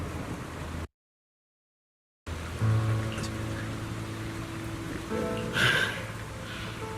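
Steady rain falls in the Zenless Zone Zero video game, a continuous hiss of drops with a brief dead gap early on and a faint rise of other game sounds near the end.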